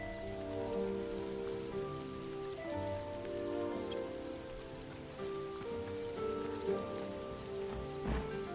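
Steady rain in the game Hytale patters continuously on a surface, soft and even, with a low background hum and no talking.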